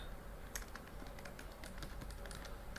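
Quick, light keystrokes on a computer keyboard while HTML code is entered, a faint close run of irregular clicks over a quiet room hum.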